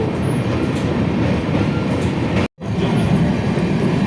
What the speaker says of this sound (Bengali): আজ প্রথম আমসাফর এক্সপ্রেস রান করছে শিয়ালদা থেকে উত্তরবঙ্গ